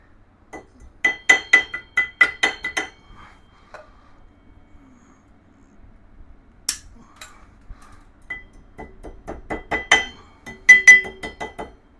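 A hammer taps metal parts on the rear differential of a 1996 Yamaha Wolverine 350 ATV, with quick bright clinks in two rapid clusters separated by a quieter pause with a few scattered knocks.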